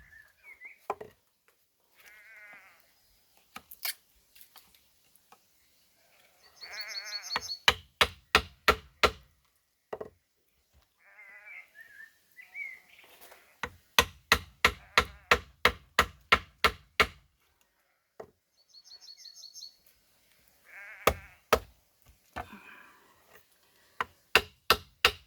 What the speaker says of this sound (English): We got sheep here, so that's why you can hear them probably.